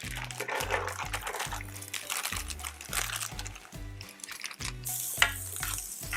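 Onions sizzling and frying in sesame oil in a pan, a soft steady crackle beneath a low rhythmic background beat, fairly quiet and close.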